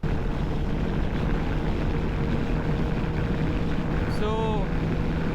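Motorcycle cruising at 140–150 on a four-lane highway toward Dharwad with a pillion rider, heard as a steady, loud roar of engine and wind rushing past throughout, with a brief high chirp near the end.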